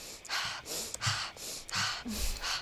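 A voice imitates rapid hyperventilation breathing from breath work, five or six forceful breathy gasps in an even rhythm, close and fairly loud with no other sound.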